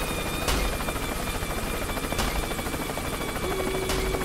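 A helicopter in the Worms video game whirs with a steady, buzzing rotor drone that runs unbroken throughout, fairly loud and close, with faint periodic thumps and no talk.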